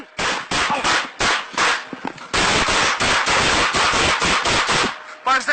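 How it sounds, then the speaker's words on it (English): Police gunshots fired in rapid succession, a loud, dense volley of many sharp cracks in quick bursts with brief pauses, close and harsh, with no voices over it. "5-7 shots fired, subject down."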